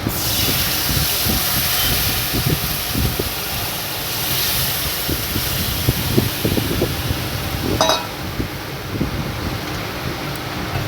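Catla fish curry with boiled potatoes and their water, plus green chilies, bubbling in a pot: a steady loud hiss of steam and simmering with irregular low bubbling pops throughout and a brief clink, no speech.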